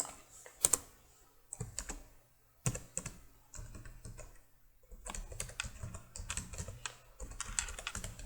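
Rapid bursts of clicky keystrokes on a computer keyboard as a link URL is typed into HTML code, close and crisp, arriving in irregular clusters separated by short pauses, with no voice.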